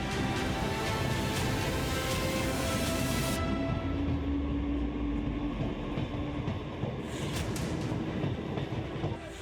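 A train runs on Mumbai's Trans-Harbour line during heavy monsoon rain, a steady rumbling roll with faint clickety-clack, continuous and moderately distant throughout.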